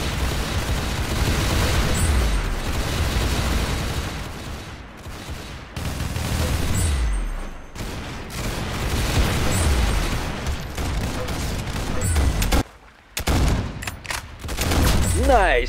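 Rapid gunfire bursts in the Roblox game Arsenal, dense repeated shots filling most of the stretch with brief gaps, loud and close, with people talking over it.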